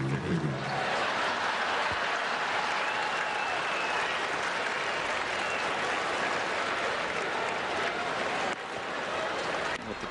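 A tennis crowd at an indoor season-ending tournament semifinal applauds and murmurs in a broad, sustained wash of clapping, steady and fairly loud throughout.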